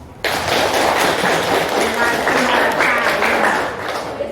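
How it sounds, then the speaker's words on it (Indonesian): Pupils in a civics classroom clap for a correct answer, a burst of applause starting abruptly and carrying on steadily while a teacher's voice talks over it. "Jawabannya betul, tepuk tangan."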